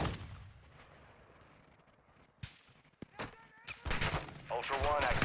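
Gunfire in a tactical shooter video game during a hideout preparation mission: a few sharp isolated shots, then denser bursts toward the end, mixed with game voices and talk.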